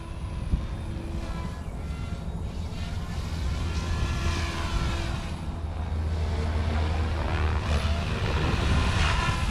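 An OMP Hobby M4 or Goosky RS4 Venom RC helicopter flies forward, its rotor and motor giving a steady loud whine and buzz that rises and falls slightly as it passes. It sounds moderately close, with faint outdoor background.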